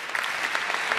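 Audience at a national canoeing awards gala clapping: a brief burst of dense, even applause from a sizable crowd.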